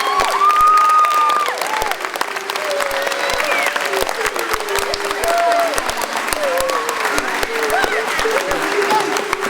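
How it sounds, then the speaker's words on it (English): An audience at a spring lower school concert applauds the music teachers, with steady sustained clapping throughout and some crowd voices and cheering mixed in. "Can we have a round of applause for all of our music teachers here?"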